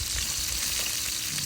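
Squirrel meat browning in a pot for gravy, a steady hissing sizzle of hot fat that carries on evenly and close up with no talking.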